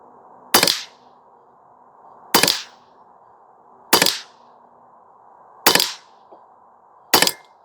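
A Western Airguns Sidewinder .22 air rifle fires five sharp, loud cracks in semi-auto, spaced about a second and a half apart, each ending quickly over a faint outdoor background.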